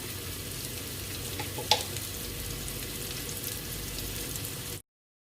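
Turmeric powder frying in hot oil for a Kerala beetroot thoran, a steady close sizzle throughout with one brief sharp crackle partway, then the sound cuts off abruptly.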